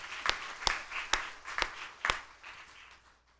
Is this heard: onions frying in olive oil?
no